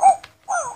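An interactive toy puppy gives two short electronic barks, close and clear, with a brief gap between them, the second yip slightly longer and whimpering.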